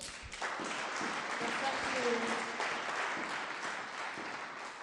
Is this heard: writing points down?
no